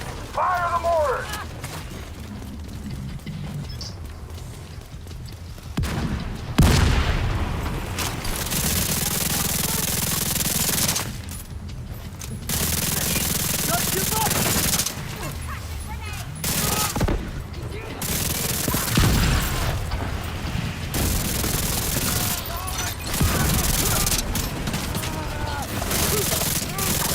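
Mortar fire and explosions in The Division 2 bring loud, repeated booms and rattling blasts in bursts, broken by short quieter gaps, with voices heard in between.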